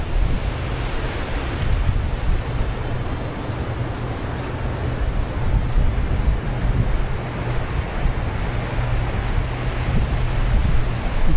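Surf washes steadily onto Pourerere Beach, a continuous broadband roar of breaking waves mixed with gusty wind buffeting the microphone, with no voices over it.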